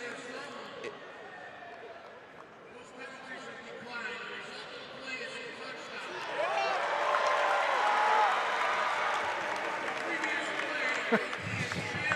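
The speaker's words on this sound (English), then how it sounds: "So the crowd cheers because they say it's offsides, decline, touchdown." Arena football crowd in an indoor arena at an Oceanside Bombers versus Albany Firebirds game, a steady wash of voices that swells into louder cheering about halfway through, with an announcer's voice running over it.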